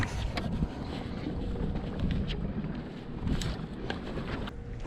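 Wind gusting over a boat on the water during a catfishing trip, a steady loud rumbling buffet against the microphone with occasional light knocks and splashes, no talk.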